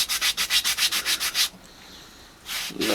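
A plastic climbing hold being rubbed with sandpaper: a rapid run of about ten even, rhythmic scraping strokes close by, a short pause, then a longer scrub, with no talk.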